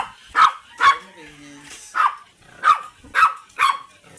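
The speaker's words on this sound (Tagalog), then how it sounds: "Ito naman po ang Pomeranian dogs." Pomeranian dogs let out six or so sharp, high yappy barks in an irregular string, close and fairly clear against a quiet background.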